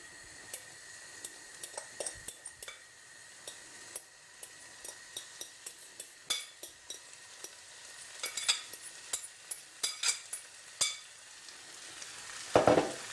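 Peas, fish and rice sizzle gently in a pan for kedgeree under a thin, steady fry, while a utensil stirs them with irregular scraping taps and clacks against the pan, up close.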